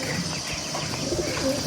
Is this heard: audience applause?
no